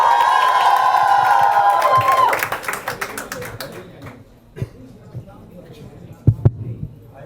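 A crowd of fans cheers and shouts for film director Imtiaz Ali at a Tamasha fan event, loud at first and then breaking into scattered claps that fade away.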